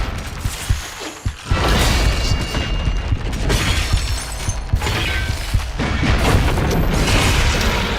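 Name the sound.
exploding enemies in video game DOOM: The Dark Ages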